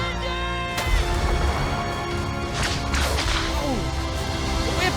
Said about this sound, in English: Oh. Whip.